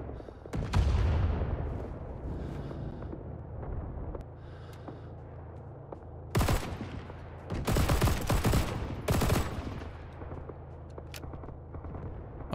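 A Lahti-Saloranta M/26 light machine gun firing in a Winter War video game mod, heard as several loud bursts of rapid fire, with quieter battle noise and rumbling between them.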